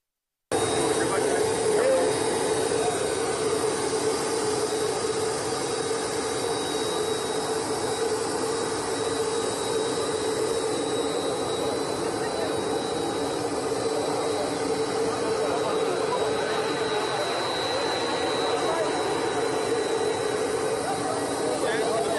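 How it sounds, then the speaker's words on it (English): A jet airliner's engines whine and roar steadily at close range after touchdown in Abuja, a continuous broadband drone with a thin high tone running throughout, under a background of talk. "His plane touched down in Abuja."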